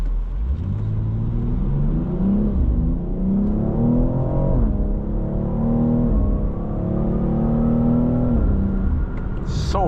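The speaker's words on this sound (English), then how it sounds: "I love the pop from the exhaust when you upshift" 2023 BMW X4 M accelerating hard, its engine note rising steadily in pitch through a couple of gear changes, with a sharp exhaust pop on an upshift near the end, loud and close from inside the cabin.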